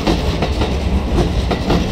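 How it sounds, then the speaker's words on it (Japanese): A Keikyu limited express train bound for Misakiguchi pulls out of Shinagawa station, a loud, close rumble with rhythmic clickety-clack beats as the cars pass over rail joints. "これ今出発をしていきましたね、特急三崎口駅です。"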